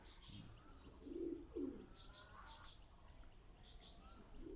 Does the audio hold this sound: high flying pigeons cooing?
yes